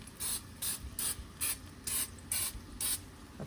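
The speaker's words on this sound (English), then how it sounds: "I'm gonna give just a super quick little spray so the skin will char up a little bit better." Cooking spray hisses in seven short, even bursts over salmon in an oven, a quick rhythmic series of close, moderately quiet sprays with no talking.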